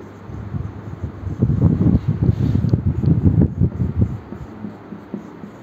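Marker or chalk strokes scrape and tap across a board as something is written large, a run of close, rhythmic rubbing scratches over a faint background hiss.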